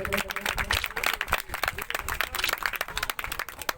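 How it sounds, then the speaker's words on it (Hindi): Audience applause at an outdoor public awareness rally in Gujarat: dense, continuous clapping from a crowd, fairly distant and even throughout, with no voices standing out. "तालियों से बधाई सब।"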